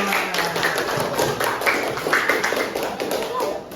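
Elementary school classmates clapping for a student group, a brisk, uneven patter of hands nearby lasting several seconds, with voices talking faintly underneath.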